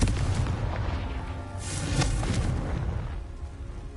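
A Confringo blasting spell going off in Hogwarts Legacy, a rumbling burst with a sharp crackling flare near the middle, then a fading low roar.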